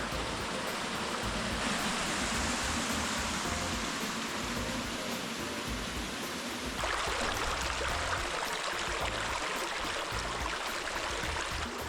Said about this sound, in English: we love the sounds of the rushing water that it brings to our backyard